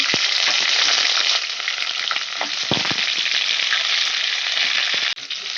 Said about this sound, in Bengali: তেজপাতা শুকনো লঙ্কা দিয়ে দিলাম পাঁচফোড়নটা দিয়ে দিলাম সবজিটা আমি দিয়ে দিচ্ছি